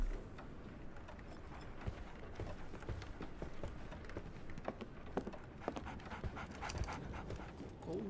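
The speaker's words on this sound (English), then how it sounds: "So, Barnes has a dog now" A dog pants steadily in the Victorian-era detective game Sherlock Holmes Awakened, with quick breathy huffs over a dense, busy background and occasional soft thumps, moderately close and continuous.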